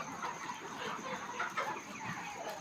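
A poultry-farm shed of some 1300–1400 broiler chickens fills with constant overlapping clucks and murmurs, a dense, mid-distance flock chorus with no clear pauses.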